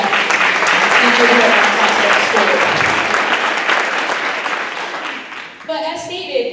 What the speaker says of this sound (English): let's have a round of applause for all of the efforts that teachers